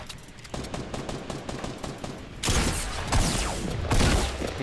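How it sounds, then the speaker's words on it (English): Rapid automatic gunfire from a Fortnite battle royale building battle, steady bursts that grow louder and denser midway, with no talking over the shooting. "I just got shot in the back."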